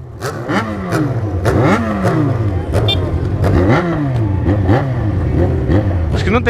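A Yamaha XJ6 motorcycle engine revs repeatedly outside a concert venue, rising and falling in sharp bursts close by and loud, with people talking over it.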